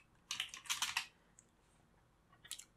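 Computer keyboard typing as a trace statement is entered into a Qlik script: two quick bursts of clicking keystrokes close by, a longer flurry then a brief pause and a short final burst, with no talking.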